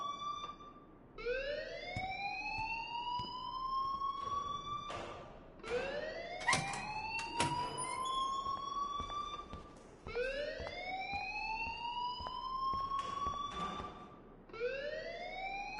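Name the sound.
school alarm ringing in Life is Strange video game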